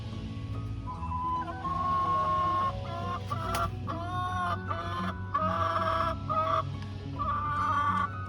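Several chickens cluck and squawk loudly over a steady low hum, with agitated, overlapping calls that rise and fall like a squabble.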